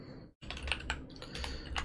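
Fingers tap on a computer keyboard during C# programming work, a quick run of close, crisp keystrokes clicking one after another with a brief pause early on.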